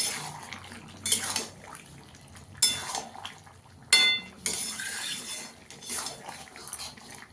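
Potato, cauliflower, broad bean and poppy seed curry being stirred in a pan, with several sharp metallic scrapes and clinks of a spoon against the pan between softer stirring, close and fairly quiet, no talking.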